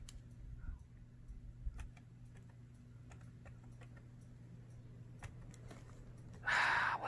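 Typing on a computer keyboard at a desk cleared of mixed-media craft supplies: scattered light key clicks in an uneven, sparse rhythm, faint and close, over a steady low hum, ending in a brief louder burst of noise.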